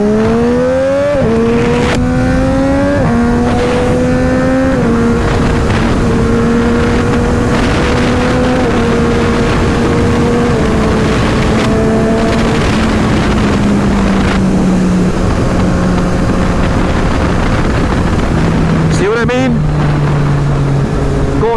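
Motorcycle running flat out in sixth gear at about 100 mph, probably an Aprilia RSV4 or Street Triple RS: a loud, steady engine drone that slowly falls in pitch under heavy wind roar, with a short shift blip near the end.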